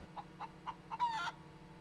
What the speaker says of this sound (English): I did go and buy a chicken